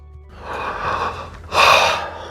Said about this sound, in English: Oh, what a yawn.